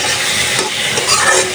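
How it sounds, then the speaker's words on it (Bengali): A spice paste fries with tomato in a pan while being stirred, giving a loud, continuous sizzle with scraping, spoon-against-pan sounds throughout. "মশলাটা ভালোভাবে টমেটোর সাথে কষায় নিচ্ছি, যেহেতু টমেটো দিয়ে বোনা করবো, ভালোভাবে কষায় নিলাম।"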